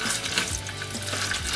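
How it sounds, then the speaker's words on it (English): Tomato paste fries in olive oil in a pot on the stove, giving a continuous close sizzle broken by soft scraping and stirring sounds. "now this is frying together, the tomato paste and the olive oil"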